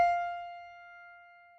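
A high F at the top of the treble staff, an octave above the lower F, sounds as one pure, bright tone that fades gently over about a second and a half, alone and soft.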